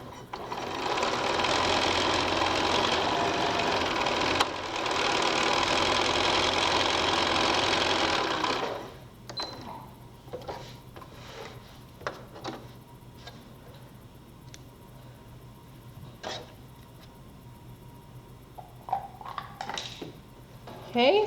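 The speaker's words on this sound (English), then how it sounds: "we're just gonna sew a 1/4 inch seam along there" Sewing machine stitching a quarter-inch quilt seam on four-patch quilt blocks, running loud and steady for about eight seconds with a brief pause, then stopping to leave faint clicks and handling noises.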